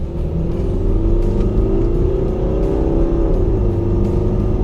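A 2012 Mercedes-Benz ML 250 diesel W166 SUV with 204 hp accelerates hard. Its loud, steady engine drone climbs in pitch, heard close and continuous with no talking.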